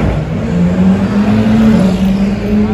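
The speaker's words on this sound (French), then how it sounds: "Ce que vous venez d'entendre là, c'est le convoi de tout à l'heure avec la Yesco et tout." A convoy of supercars including a Koenigsegg Jesko rolls past on the streets of Monaco, a loud, steady engine drone with a sustained low tone filling the whole stretch.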